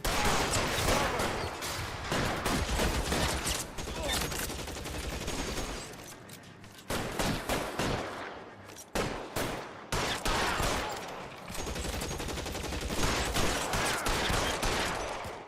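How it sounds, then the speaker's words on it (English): Sustained machine gun fire in the video game L.A. Noire, dense rapid bursts that rattle almost continuously with a few short breaks, loud and close. "That's a lot of machine gun power."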